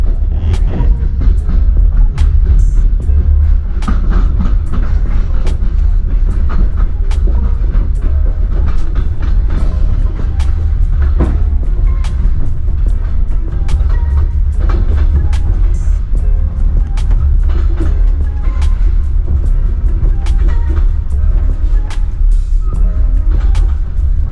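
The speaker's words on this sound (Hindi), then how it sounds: "ट्रेन भी रुकते रुकते जा रही है सब स्टेशन पे।" A passenger train between Georgia and Armenia rumbles heavily from inside a carriage, with a constant low roar and frequent rhythmic clicks and clacks of the wheels over rail joints throughout.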